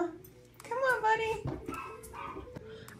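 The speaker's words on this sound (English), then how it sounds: "so you can hear the dog barking." A dog barks and whines outdoors on a Tennessee trip, its short yelps mixed with a higher whimpering tone, while a person speaks over and around it at close range.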